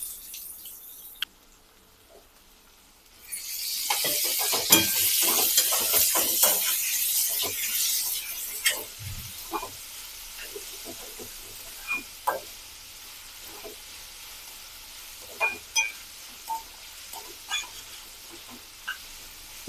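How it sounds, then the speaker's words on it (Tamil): Chopped onions sautéing in oil for a vegetable bread sandwich filling, quiet at first, then a bright sizzle that fades into intermittent scraping and clicking stirring sounds. "வெங்காயம் நல்லா வதங்கி வந்துடுச்சு."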